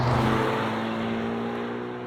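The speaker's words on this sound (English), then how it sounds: "I'm going to flick this into race mode. See what this is like. It actually makes the exhaust louder immediately." A 2023 Haval H6 GT engine in race mode drones loudly with a deep, steady exhaust note, heard from inside the SUV as it holds a constant pace.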